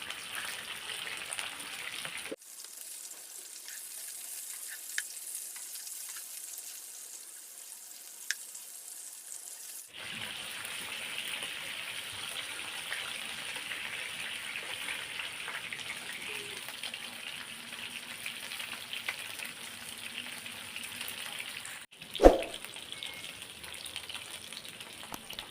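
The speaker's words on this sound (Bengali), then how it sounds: "মাছগুলো উল্টিয়ে নিচ্ছি।" Fish frying in a pan after being flipped for a pumpkin fish curry, giving a steady close sizzle that fades briefly, returns strong, and carries one sharp clatter near the end.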